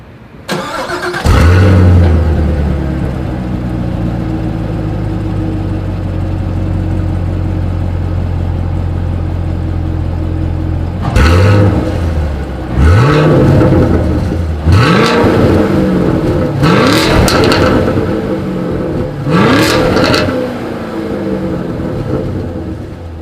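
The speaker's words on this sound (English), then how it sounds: "here is that exhaust clip" A 2020 Chevrolet Camaro SS with dual exhaust starts up with a loud bark, settles into a deep steady idle, then gives a series of four or five sharp throttle blips that rise and fall back to idle, close and loud with no talking.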